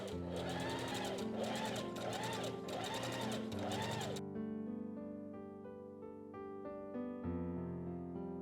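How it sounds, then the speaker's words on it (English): A sewing machine runs a wide stitch along the inside of a spring ruffle dress to form gathers, buzzing rhythmically up close for about four seconds before stopping, with tonal background music continuing afterward. "we are going to wide stitch machine the inside part to create gathers and hem"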